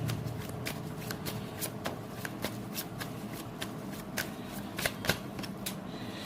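Tarot cards being shuffled by hand, a steady papery riffling with sharp flicks and snaps scattered throughout, close and fairly quiet, with no talking over it.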